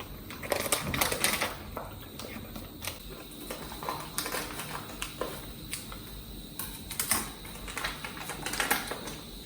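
A new plastic pack of amchur powder is cut open, giving close, crisp crinkling and crackling with irregular snips and rustles, fairly quiet and without speech.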